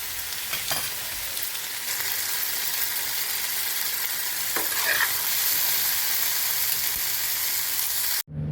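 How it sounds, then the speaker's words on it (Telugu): Garlic, ginger, onion and tomato pieces frying in hot oil in a pan, a steady close sizzle with scattered stirring scrapes, no voices, cutting off abruptly at the end. "ప్యాన్లో ఆయిల్ వేసి వేడయ్యాక వెల్లుల్లి, అల్లం ముక్కలు, ఉల్లిపాయ ముక్కలు, టమాటా ముక్కలు వేసి వేయించాలి"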